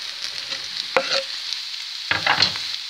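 Salami and vegetables frying in a pan for an omelette, a continuous hiss of sizzling broken by two bursts of scraping as a utensil stirs them, close and with no talking.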